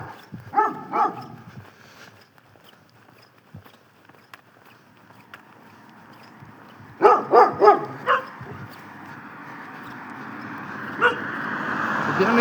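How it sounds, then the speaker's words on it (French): Several dogs barking outdoors near a chapel, a quick cluster of loud barks in the opening seconds and another burst around the middle, with a lone bark later over steady background noise and faint footsteps. "C'est bien les chiens."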